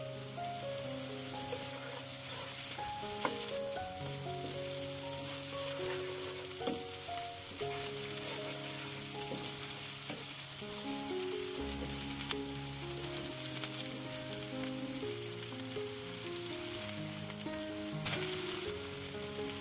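Cabbage and onion frying in a pan for an egg cabbage fry, a continuous soft sizzle with occasional stirring, heard under steady background music without any talking.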